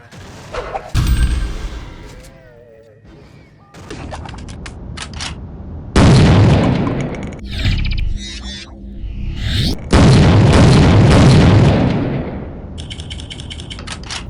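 Loud shotgun blasts from a 3D first-person shooter video game fire in a series, each a sharp booming crack followed by reload clatter and brief pauses between shots.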